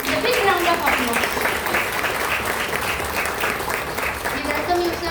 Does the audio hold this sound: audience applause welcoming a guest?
yes